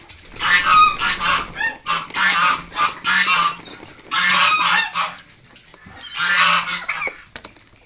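Loud, harsh honking and quacking from several ducks close by, coming in repeated overlapping bursts with brief gaps.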